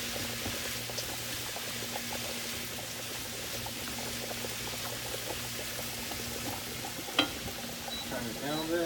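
Lean ground beef frying in a pan, a soft steady sizzle and bubbling with occasional stirring scrapes and a sharp clink near the end, a faint hum underneath.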